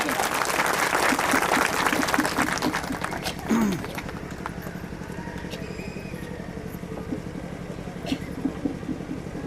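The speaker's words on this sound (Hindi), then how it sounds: "तालियों से स्वागत" An outdoor crowd at a BJP village visit in Pilibhit's Tarai area claps to welcome Manjinder Singh Sirsa onto the stage, a strong burst for a few seconds that quickly thins into scattered background noise.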